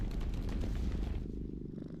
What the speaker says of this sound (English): No, I just have a cat.